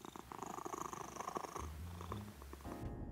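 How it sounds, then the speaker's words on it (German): A cat purrs steadily and close by, a low rhythmic rumble that runs for about three seconds with no other sounds around it. "Ihr Schnurren macht Grismo zu einer exzellenten Schlafbegleiterin"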